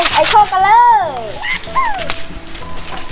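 A dog, lured with meatballs and bathed for the first time, lets out high whimpers and yips that rise and fall, close by, while people talk over it.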